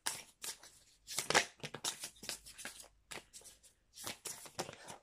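Oracle cards are shuffled and drawn by hand, giving soft riffling and flicking bursts in quick irregular runs. The sound is quiet and close, with short pauses between handfuls.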